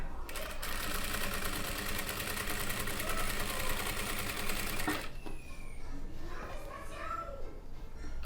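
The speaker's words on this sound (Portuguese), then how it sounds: "Aí você inicia aqui com o retrocesso, vem alinhando e costurando" A sewing machine stitches fabric for a hooded towel, a fast, even mechanical whir and needle rattle running steadily for about five seconds before stopping, followed by softer handling sounds and faint talk.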